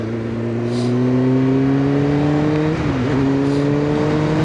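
A Kawasaki ZX9R motorcycle cruises on the M5 motorway, its engine a loud, steady drone that rises smoothly in pitch, dips briefly at a gear change, then climbs again, with wind rushing past and no talk.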